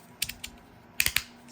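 Clicky switches on a 3D printed modular Tron V2.0 fidget slider snap several times close up, first a few spaced clicks and then a quick cluster of crisp, sharp clacks in a quiet room.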